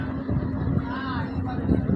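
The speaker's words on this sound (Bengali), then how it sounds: "এই যে সব ট্রলার পার হচ্ছে" Motor trawlers passing on the Rupsa river at ebb tide give a steady, continuous low engine drone with wind noise, holding even throughout at moderate loudness.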